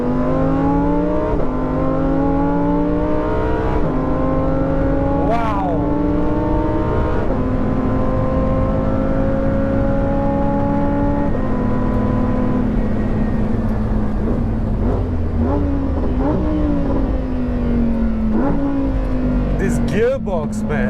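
A Lamborghini Huracan STO braking hard from over 200 km/h on the back straight of the Sepang race circuit: a loud, close engine roar whose pitch drops and jumps through quick downshifts, with someone talking over it throughout.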